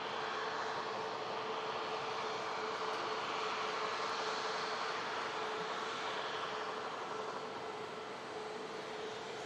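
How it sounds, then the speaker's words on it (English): A Boeing 787 Dreamliner waits lined up for departure at Manchester Airport, its engines giving a steady, even whine and rush at a moderate distance with no change in level. "Dreamliner lined up and primed for departure."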